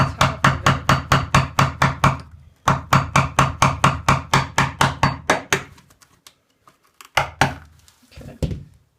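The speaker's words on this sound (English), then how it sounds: "I'm gonna take a hammer here. Hammer and chisel." Fast, even hammer blows on a chisel against rusted metal on an old toilet, in two long runs, loud and close, followed by a few scattered strikes after a pause.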